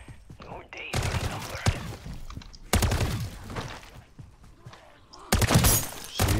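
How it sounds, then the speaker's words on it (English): Explosive-round gunfire in Call of Duty MW3 Zombies: several loud bursts of shots with blast-like cracks, separated by quieter stretches of game noise. "It's like when you shoot headshot, it explodes."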